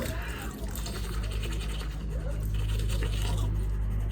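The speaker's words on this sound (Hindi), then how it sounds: "ब्रश कर रहा हूँ और पता नहीं दांत बचेंगे या नहीं बचेंगे" A toothbrush scrubs teeth with cold water on a chilly morning in the Uttarakhand mountains, a steady close scratching that runs on without a break over a low rumbling background.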